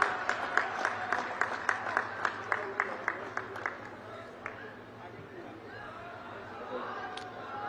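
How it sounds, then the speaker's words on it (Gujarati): Rhythmic crowd applause at an outdoor political rally, loud and steady for several seconds before fading into a murmur of crowd chatter. "તાળીઓના ગડગડાટથી ફરીથી વધાવીશું"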